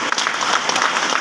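Audience at a free rural health camp bursting into applause, dense continuous clapping from many hands for just over a second, fairly loud and close, with no talking over it.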